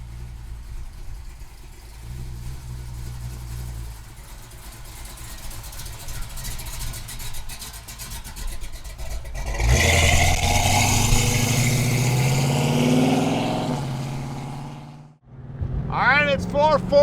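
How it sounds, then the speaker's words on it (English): A 1970 Plymouth Duster with a 440 engine idles with a low steady rumble, then revs loudly for several seconds before dropping off, and a short sound follows at the end. "It's 440 Duster time. This thing is ready to go, guys. Sounding awesome."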